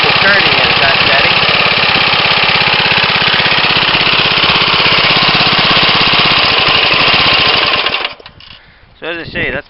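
A 1965 Briggs lawnmower engine runs slowly, loud and close, with a steady chugging rhythm of rapid firing pulses that cuts out near the end, leaving a few brief sputters and bumps.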